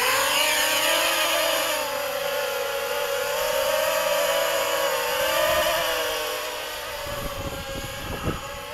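A small 290mm mini spider hex FPV racing drone hovers nearby at about half throttle, its six motors giving a steady, wavering high whine that drifts slightly in pitch and fades a little toward the end.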